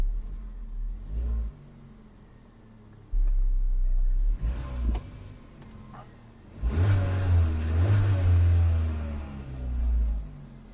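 A 2014 Chevy Sonic with a 1.8L engine, repaired after stalling, idles with a low rumble and rises into rough revving bursts several times, close by and without talk.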